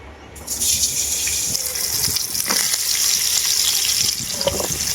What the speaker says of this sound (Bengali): এরপর ওই মাছ ভাজা তেলের মধ্যেই দিয়ে দেবো কালো জিরে আর দেবো কেটে রাখা সজনে ডাঁটা আর আলু